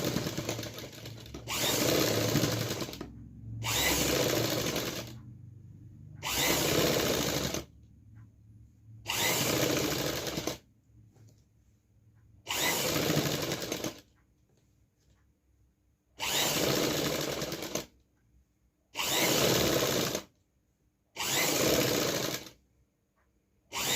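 A sewing machine stitching the seam of a suit kurti, running in repeated loud bursts of steady whirring stitches separated by short pauses, with no talk.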